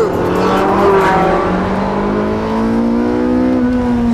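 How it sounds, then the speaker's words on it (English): Porsche 918 Spyder hybrid, with electric front drive and gasoline rear engine, howls loudly on a race track as it exits a corner and climbs toward 9,000 rpm, a rising harmonic engine note that holds steady and close throughout. "Listen to the 918's howl."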